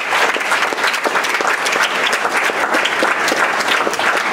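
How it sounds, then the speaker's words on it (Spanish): A church congregation at a Sunday service claps steadily and loudly, producing a dense, sustained wash of applause that holds an even level from start to finish. "Dale un fuerte aplauso, Señor."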